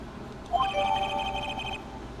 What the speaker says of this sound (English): did his phone actually go off when we pressed redial on that phone?